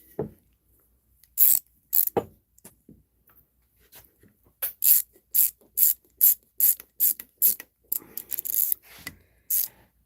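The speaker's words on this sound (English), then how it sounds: "We're gonna put this screw in on the side of this piece of wood." A ratcheting screwdriver drives a screw into the side of a piece of wood, giving a series of sharp, close clicking ratchet bursts, sparse at first and then in a quick regular rhythm, with no talking.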